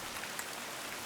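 Steady rain falling on surfaces in a quiet countryside setting, an even broadband hiss of drizzle and scattered droplets throughout, with no voices.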